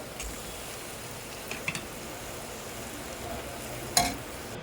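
Cooked rice stir-fried with fried rice powder in a hot pan, a soft continuous sizzle with a few faint scrapes and taps of the spatula, close by and fairly quiet.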